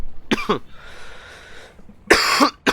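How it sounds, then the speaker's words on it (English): Two sharp, harsh coughs, a couple of seconds apart, close to the microphone, with a soft hiss between them. "I still got this cough"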